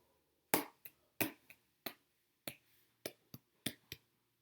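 Hands clapping a rhythm in a primary-school music lesson: about nine sharp, dry claps in an uneven pattern of single beats and quick pairs, close and alone with no talk.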